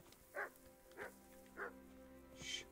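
Dogs bark in Kingdom Come: Deliverance: three short, evenly spaced barks at moderate volume, followed by a brief hissing rustle.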